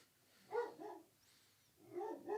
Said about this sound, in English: See, my dog is scared.